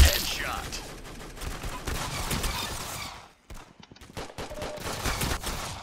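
Dual shotguns blasting in the Roblox game Arsenal, a dense string of loud rapid gunshots with a brief gap partway through, close and punchy, with faint game sounds mixed in.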